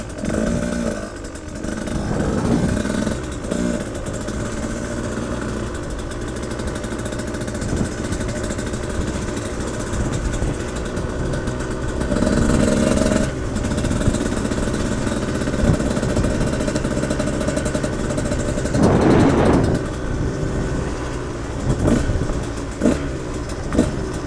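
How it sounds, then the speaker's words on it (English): A 2022 Husqvarna TE 150i dirt bike engine runs steadily while warming up, a continuous near rumble with a few swells in revs, heard alone without talk. "So until the bike warms up, I'm just gonna ride it slowly."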